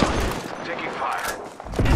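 Rapid gunfire in Apex Legends, a dense stream of shots with bursts and booms throughout, loud and close, ending with heavier blasts.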